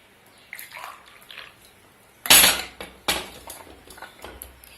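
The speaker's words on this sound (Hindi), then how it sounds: "एक गिलास में गर्म पानी डालें" Hot water is poured into a glass in short splashy bursts, with a couple of sharp glassy clinks partway through, close and fairly quiet.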